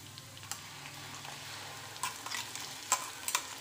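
An onion, tomato, coriander and green chili paste sautéing in oil for an omelette curry, a soft, low sizzle with faint spoon scrapes and small clicks near the end, close but quiet.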